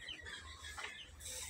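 Chickens in a backyard coop cluck in short, scattered calls against steady low farmyard hum, fairly faint and without speech.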